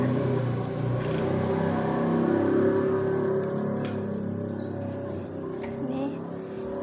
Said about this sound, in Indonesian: Ini motor ayah.